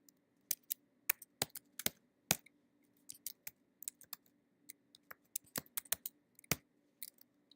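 Someone types code on a computer keyboard, with sharp, close key clicks arriving in irregular bursts and short pauses over a faint steady background hum, without talk.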